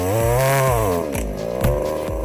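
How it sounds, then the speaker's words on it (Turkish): A Kingsaw chainsaw cuts through dry, hard wood. Its engine roars loud and close, the pitch dipping and surging repeatedly as the chain bites into the log. "Testeremiz en zor ağaçları güçlü motoru sayesinde saniyeler içinde keser."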